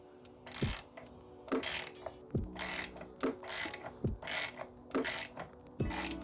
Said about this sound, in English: I'm going to take this 19mm socket, put it back in, and I'm going to tighten this spark plug up.